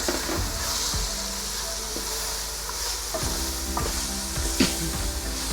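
Tomatoes drop into a hot pan with peas, bursting into loud sizzling, then a spoon stirs and scrapes against the pan in repeated strokes over the continuous frying hiss.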